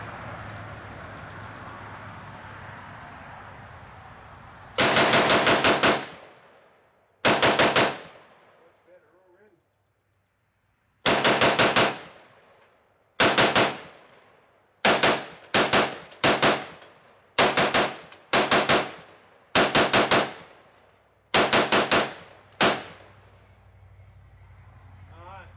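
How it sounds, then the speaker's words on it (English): AR-15 rifle firing from a 40-round PMag, a series of sharp, loud gunshots in irregular bursts and singles, each with a ringing outdoor decay, after a quiet stretch at the start. "Dumped that 40 round PMag, no problem."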